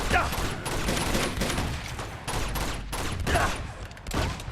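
Rapid gunfire erupts in the video game Uncharted 2, with dense bursts of shots repeating in clusters over a loud, steady combat din, while a player talks over it.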